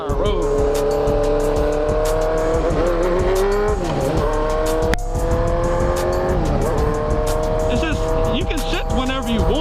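A motorcycle being ridden down a road, its engine droning loudly with rising pitch and brief dips as gears shift, continuous and close, with a voice talking over it.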